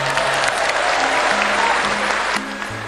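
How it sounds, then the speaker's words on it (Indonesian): A rally crowd claps in a dense, steady wash of applause that dips slightly near the end, with a little faint voice sound underneath. "Tepuk tangannya kurang semangat."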